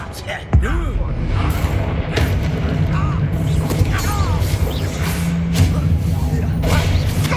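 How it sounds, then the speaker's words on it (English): Bombarda blasting spell from Hogwarts Legacy bursting with a sharp thump, followed by crumbling debris, clattering mechanisms and continuing combat noise, with a voice heard alongside. "Bombarda!"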